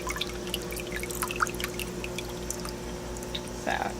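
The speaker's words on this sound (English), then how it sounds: "Some great water movement going on" Aquarium water churned by a Jebao WP40 wave pump on wave mode 3 in a four-foot tank: a continuous splashing, pouring wash with scattered drips and trickles, fairly close and steady, briefly swelling near the end.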